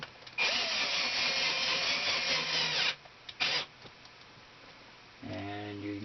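A power drill drives #8 by 1/2 inch screws into the soles of winter ice fishing boots. It gives a loud close whirring, grinding run that stops abruptly, then a short second burst, and a lower motor hum at the end.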